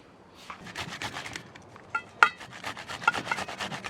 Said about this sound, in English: I have my grater, I have my sort of drainer, and I have the grated tomato.